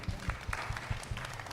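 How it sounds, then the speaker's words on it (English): A small audience at a women's rights convention panel claps for the panelists, a faint, steady patter of applause with scattered individual claps. "A round of applause to my panelists."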